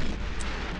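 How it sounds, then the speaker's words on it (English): A grenade blast in the wartime strategy game Panzer General II, a dense, loud, broadband roar lasting under a second with no talk over it. "Grenade."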